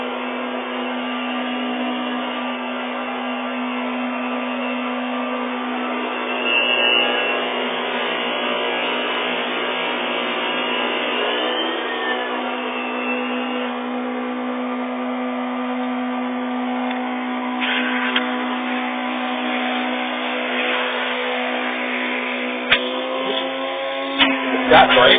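Lux Epic 8000 vacuum cleaner running steadily at low speed, a continuous close motor whine with a persistent tone throughout, with a voice talking over it and a few brief clicks near the end.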